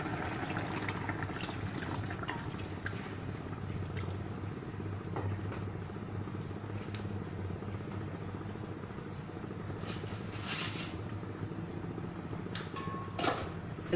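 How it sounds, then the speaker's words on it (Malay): Water poured into a cooking pot to make the gravy for a red-chili coconut curry with potatoes, green beans and prawns, a steady continuous pouring and trickling rush held at moderate level throughout, with no talking. "Okey, kita letak air untuk kuah."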